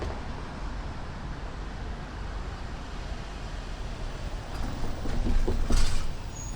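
An LIRR train on the Port Jefferson Branch rumbles past in a dense, steady roar of wheels and cars, swelling louder near the end with a faint high squeal, no voices over it.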